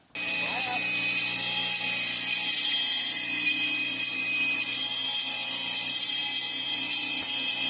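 A truck flywheel being resurfaced on a lathe during an 8.1L engine swap into a GMT400 pickup gives a steady, loud, high-pitched machining whine that runs unbroken through the whole stretch.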